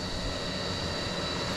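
A Condor fishing drone powers up and lifts off, its steady, even motor and propeller whine filling the short span at close range with no break and no voices.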